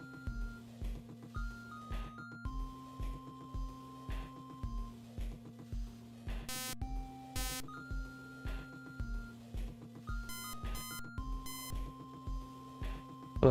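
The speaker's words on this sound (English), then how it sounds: "We'll just make a beep for now." Chiptune-style electronic music plays with a pulsing bass line and short square-wave melody notes, punctuated by a few sharp high bleeps in Game Boy style, moderately quiet and steady in rhythm.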